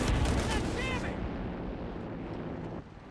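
Strafing gunfire from a Company of Heroes 3 aircraft run rips over the battlefield with loud bursts and booming impacts at the start, then fades into a lower rumble that drops off near the end.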